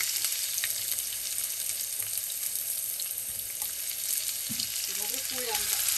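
Onions with dried chili sizzling in hot oil, a steady broadband frying hiss throughout, with a soft stir near the end.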